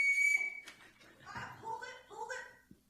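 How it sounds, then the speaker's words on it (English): A referee-style whistle is blown once, a loud shrill blast lasting under half a second at the start, followed by people talking indoors in a meeting room. "I am blowing the whistle."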